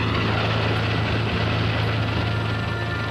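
A Vietnam War–era rescue helicopter with a 195 mph top speed, its rotor and engine drone steady, loud and continuous with a strong low throbbing hum and no talk over it.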